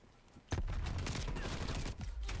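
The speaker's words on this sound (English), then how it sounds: "I just missed that second shotgun shot." Shotgun fire in a shooter video game, a sudden loud blast followed by a dense, sustained burst of gunfire and explosion-like rumble filling the rest of the moment, close and heavy.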